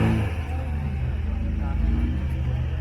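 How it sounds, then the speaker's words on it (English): A classic Mini's engine is revved, a near, throbbing low rumble that rises and pulses in short surges, with people talking over it. "Giving it some revs."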